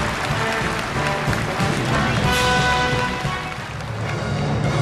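An audience in a large hall gives sustained, loud applause at the end of a state performance, a dense and continuous roar of clapping with a deep rumble beneath it and music audible within the crowd noise.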